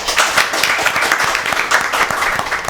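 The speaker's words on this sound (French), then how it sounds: "On les applaudit s'il vous plaît" Audience applause fills the space at a student contest game, a dense steady wash of many hands clapping, loud and close throughout with no voices over it.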